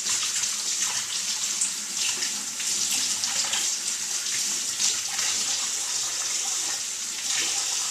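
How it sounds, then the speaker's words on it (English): Tap water runs steadily into a sink for handwashing in a home kitchen during bread making, a constant broadband splashing hiss at close range with no talking. "I'm gonna wash my hands."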